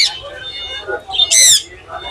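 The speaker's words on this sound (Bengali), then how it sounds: "খুব সুন্দর দুই পিস পাখি একটি হলো লুটিনো আর একটি হলো এলবিনো" A pet lutino or albino bird gives a few short calls, ending in one loud, bright squawk, up close in a quiet room.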